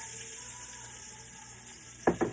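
Onions dropped into hot bacon grease start frying with a sudden sizzle late in the clip, following a steady quiet kitchen hum.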